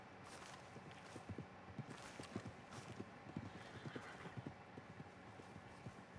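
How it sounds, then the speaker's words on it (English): Horse hooves clip-clop at a steady walking pace with a whinny in Red Dead Redemption 2, the gait close and rhythmic over a busy outdoor game ambience, with no talking. "There's your horse."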